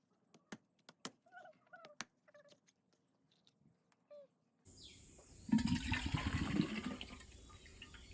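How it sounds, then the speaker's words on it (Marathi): Water is poured out of a freshly picked coconut, heard after a run of sharp taps and knocks on the shell as a steady splashing gush that begins partway through and continues fairly loudly to the end. "आता तुम्हाला त्यातलं पाणी काढून दाखवतो आम्ही."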